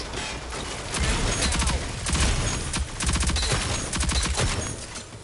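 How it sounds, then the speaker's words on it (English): Rapid automatic AK rifle fire rattles in a video game, loud and close, in several dense bursts separated by brief pauses. "Vernon thinks he's hot shit because he's ducking and weaving while fucking firing an AK or a KA-30."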